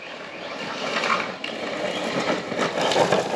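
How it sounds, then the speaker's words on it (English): A continuous rough grinding and scraping as a Losi Tenacity TT Pro RC truck's tires rub against its plastic body, with a whirring motor on 2S battery underneath. "You can hear the tires scraping in the body"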